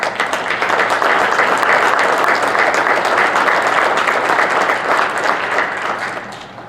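An audience at a high school band concert applauds the senior musicians with loud, thick, continuous clapping from a full crowd that holds steady, then tapers off slightly near the end.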